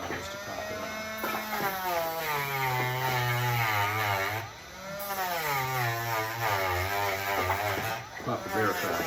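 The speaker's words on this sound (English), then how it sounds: "take the Dremel tool and we will take away about half of this ring" A Dremel rotary tool grinds away part of a metal ring during a spring kit install on a Red Ryder BB gun, giving a loud, continuous whine whose pitch sags and rises as it bites, with a short dip in the middle.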